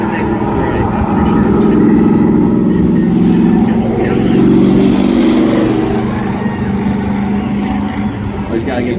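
The Dale truck, fitted with a KSR-tuned 427 engine, rumbles and revs at a spectator drag strip, a loud, sustained engine drone that swells and eases, with a person talking over it.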